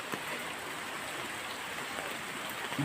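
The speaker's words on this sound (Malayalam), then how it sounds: "നല്ല ഹൈ ഫ്ലോയിലാണ് വരുന്നത് വെള്ളം" Rainwater floodwater rushes at high flow with a constant broad roar and no breaks, with no voices heard.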